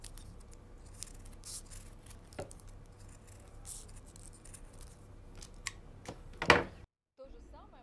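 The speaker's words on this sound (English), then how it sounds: "I can start cutting now." Scissors snip through felt for a handmade soft toy, several crisp separate cuts at an uneven pace in a quiet room, with one louder snip near the end.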